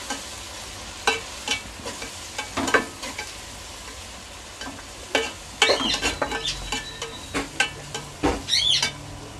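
Coriander and mint sauté in a pan for mushroom biryani, with intermittent scraping stirs and a soft sizzle heard close up in uneven bursts.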